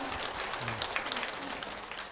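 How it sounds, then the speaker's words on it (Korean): Audience applause at a Korean singing class broadcast, a steady patter of clapping from a small crowd in a room, fairly soft and even throughout. "여러분 박수 한번 주세요."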